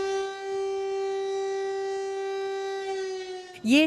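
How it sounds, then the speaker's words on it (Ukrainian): A Cold War-era civil defense siren in Germany wails with a steady, sustained harmonic tone, then sweeps upward near the end as a new rise begins. "в деяких місцях із допомогою ось таких сирен, які залишилися ще з часів холодної війни"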